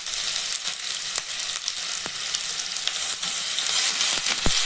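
Ginger, garlic and cumin sautéing in a pan over lowered gas, a dense bright sizzle held steady with occasional spatula taps and scrapes, close and fairly loud.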